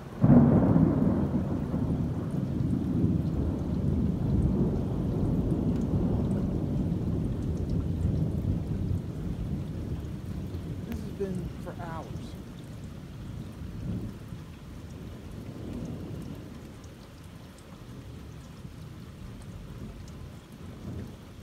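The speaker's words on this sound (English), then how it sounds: "I've never seen more days of rain, thunder, and lightning in my life." Heavy rain pours steadily while low thunder rumbles and rolls during a lightning storm in New Bern, North Carolina, loud at first and gradually easing off.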